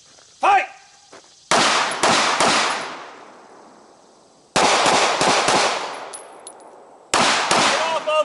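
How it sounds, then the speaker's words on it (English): Pistol shots fired at targets during a close-contact tactical fighting drill, a sharp early pop followed by three loud clusters of rapid gunfire with ringing decay, close and loud, while an instructor's shouts can be heard. "give me some rounds onto him, some rounds onto the bad guy over there"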